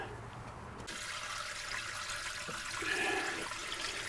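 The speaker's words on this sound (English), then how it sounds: "So we're going to go and start filling the kitchen sink with water" Tap water runs steadily into an RV kitchen sink, a continuous rushing and splashing fill that stays fairly even and moderately loud from start to finish, with no talking over it.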